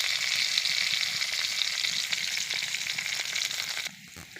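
Chopped onions with garam masala frying in hot oil in a pan for a chicken and cauliflower curry, giving a steady close hiss and crackle that drops off abruptly near the end.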